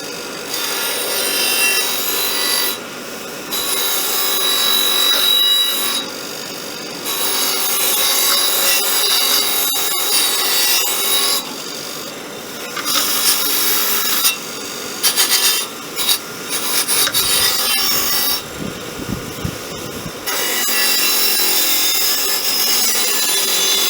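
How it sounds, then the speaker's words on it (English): A harsh, continuous abrasive scraping of a wire wheel grinding rust off a Honda XL250 exhaust manifold, loud and close, broken by a few short pauses. "there's a limit to how much I can get out using the wire wheel"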